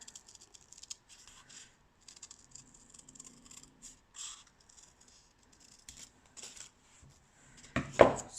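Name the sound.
scissors cutting paper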